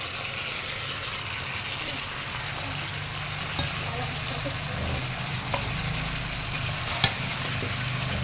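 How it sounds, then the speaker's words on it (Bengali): Vegetables for shukto are tipped into a spice mix already frying in a pan, giving a close, continuous sizzle and crackle with a few clinks and stirring scrapes. "এবার আমি সব সবজিগুলো যে কষে রাখলাম সেগুলো একের পর সব ঢেলে দিলাম।"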